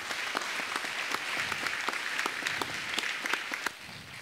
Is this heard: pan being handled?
no